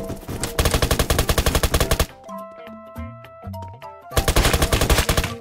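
Rapid automatic gunfire in the Roblox game Apocalypse Rising 2 comes in two loud, evenly paced bursts, with a quieter stretch of game tones and clicks between them.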